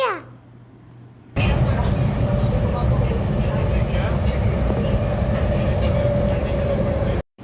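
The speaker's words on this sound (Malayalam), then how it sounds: "വേറൊരു ട്രെയിൻ അതിൽ കയറി ഞങ്ങളിതാ കുതിച്ച് പായ" A metro train rushes along with a loud steady rumble and rattle after a quiet start, then the noise cuts off abruptly near the end.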